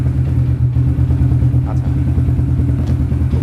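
A quad ATV's engine runs just after being started by remote and is revved, giving a steady, loud, close, throbbing idle with a low pulsing chug throughout.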